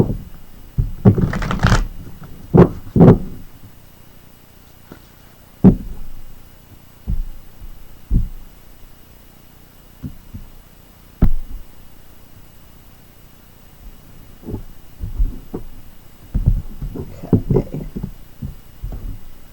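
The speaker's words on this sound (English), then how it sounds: "I'm going to shuffle them up on screen and cut them for you" A deck of oracle cards is shuffled and cut by hand on a table during a reading: scattered short riffles and soft slaps, close and fairly quiet, with pauses between bursts and no talking.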